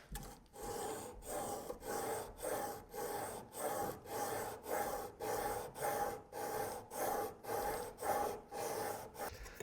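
A hand plane blade is sharpened by hand with a steady rhythmic rasping, about a dozen close, even back-and-forth strokes with brief pauses between them, and no voices.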